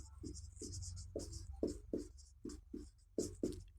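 Close, quiet pen or chalk strokes from handwriting during a maths lesson on Euclid's division lemma, a steady series of about a dozen short scratchy marks in an irregular rhythm, with no voices.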